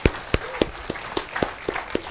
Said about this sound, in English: give a SRM clap to you for hearing through.